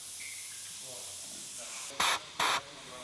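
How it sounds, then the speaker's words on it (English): Two short, loud bursts of compressed air blasting into a clogged drain on a Honda Civic, each lasting about a fifth of a second, with a brief pause between them and a low background hum. "let's try to blow it out with compressed air"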